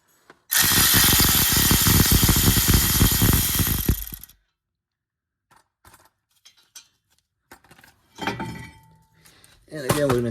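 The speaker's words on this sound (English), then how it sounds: "this is why it's helpful to have one of these cordless ratchets" Cordless electric ratchet loosening bolts while removing front brake parts on a Toyota Highlander, a loud continuous motorized whir lasting a few seconds, followed by scattered clinks and handling noises of tools and parts.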